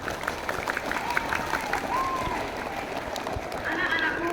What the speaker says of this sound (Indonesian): Aplaus untuk kelas 5E.